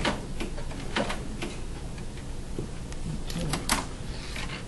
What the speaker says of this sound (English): let's drop the needle right at the ditch here. And then sew across how much we need for the lap.